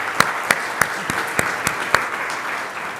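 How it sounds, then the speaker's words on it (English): A short burst of audience applause at an evening awards ceremony, loud and close, with dense clapping and a few sharp, distinct claps standing out in a steady rhythm for about three seconds. "Let's give them another round of applause."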